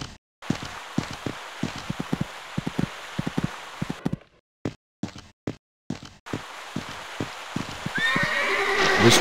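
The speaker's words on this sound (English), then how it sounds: "This horse just cantering along this part of the course." A horse canters along a cross-country course in the Equestriad 2001 video game, its hooves beating a rhythmic clip-clop, broken by short gaps, before a steady rushing sound builds at the end.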